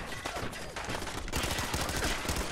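Automatic machine-gun fire in Fallout 4, a dense rattling stream of shots that grows louder midway and keeps going, close and loud, with no talking.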